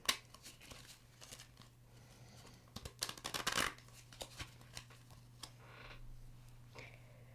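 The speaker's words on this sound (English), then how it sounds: "Trying to shuffle these baby cards." Small tarot cards are shuffled by hand, giving faint, close papery riffles and soft ticks, with one brief denser flurry in the middle and quiet between.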